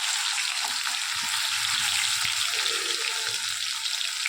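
Garlic, ginger and tomato hitting hot oil for a pulao gravy, a steady hissing sizzle filling the whole short stretch, close and fairly loud.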